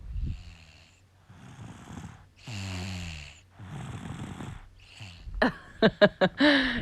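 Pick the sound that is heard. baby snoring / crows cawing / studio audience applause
baby snoring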